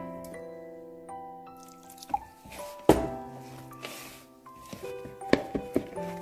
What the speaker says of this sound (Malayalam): ആവശ്യത്തിന് വെള്ളം ഒഴിച്ച് നമ്മൾ ചപ്പാത്തിക്കൊക്കെ കുഴയ്ക്കുന്ന പോലെ നന്നായിട്ട് കുഴച്ചെടുക്കണേ